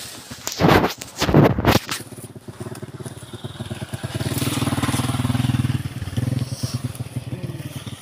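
Motorcycle engine in a rural province setting, loaded with animal fodder: a couple of loud knocking bursts at the start, then a steady low running drone that rises and holds, close to the recorder with no talk over it.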